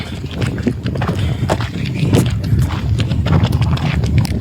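A bullock's hooves clop steadily on hard ground as it is driven along, close and fairly loud, with faint voices in the background.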